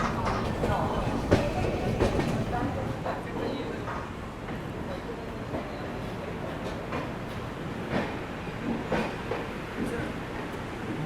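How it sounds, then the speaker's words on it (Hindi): Rajdhani Express rolling slowly through a station past a standing goods train, with steady rumbling and rhythmic clickety-clack of wheels over rail joints, heard from on board with a voice talking over it. "मुझे तो लग रहा है रुक ही ना जाए ट्रेन"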